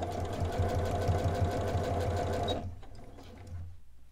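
A sewing machine stitching layers of scrunchie fabric runs with a loud, steady, rapid mechanical chatter up close, then stops abruptly and leaves a quieter hum and faint handling noise.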